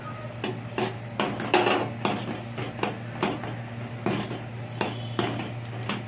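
A spoon stirs ground fried chili into a rice flour mixture in a metal bowl, giving repeated scraping clinks and taps at an irregular rhythm, close and clear with no talk.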